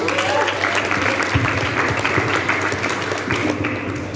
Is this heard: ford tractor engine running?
no